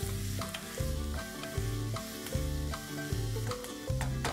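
Chopped onions frying in a pan with salt, a steady close sizzle broken by repeated rhythmic scrapes and stirs of a spatula every half second or so.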